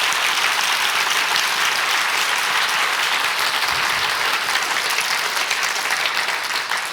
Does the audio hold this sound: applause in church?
yes